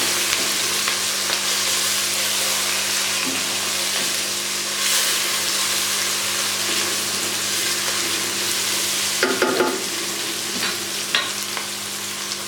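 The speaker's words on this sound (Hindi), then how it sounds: "इनको मैंने इस तरह काट लिया छोटे छोटे टुकड़ों में, तो ये भी मैं इसमें डाल दूँगी और इसको बस थोड़ी देर के लिए इस तरह फ्राई कर लूँगी" Chopped green chilies fry in a hot pan, giving a steady close hiss and sizzle with occasional stirring scrapes, and no voices are heard.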